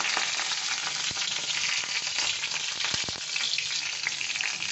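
Five-spice seeds with a dried red chilli and two green chillies sizzle steadily in hot oil, a loud continuous frying crackle with a few sharp pops and stirring clicks.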